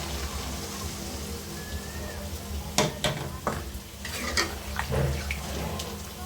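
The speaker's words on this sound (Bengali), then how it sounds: "এখন আমি ঝোল অ্যাড করে দেবো পরিমাণ মতো" Gravy goes into a pan of sizzling okra curry, producing a crackling hiss with intermittent scraping and splashing bursts of stirring, close and moderately loud.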